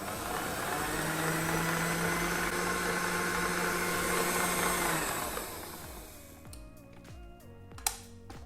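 Electric stand mixer whipping meringue into Swiss meringue buttercream, a steady loud motor whir with mixing churn that runs evenly for about five seconds, then drops off into quieter clatter and a sharp knock near the end.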